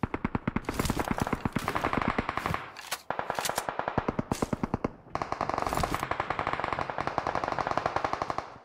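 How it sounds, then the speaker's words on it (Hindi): Heavy automatic gunfire in a mobile battle royale shooter, long rapid bursts of sharp shots with brief pauses, loud and close. "तभी एकदम से इतनी जोर से गोलियां चलने लग जाती है ना"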